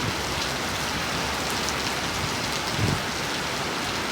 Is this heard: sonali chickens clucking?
no